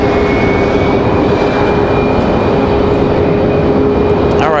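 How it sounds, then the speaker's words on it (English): Engine number 2 of an airliner spooling up at Raleigh Durham International Airport, a loud, steady roar with a sustained whine, heard at a distance and continuous throughout. "Mad Max firing engine number 2"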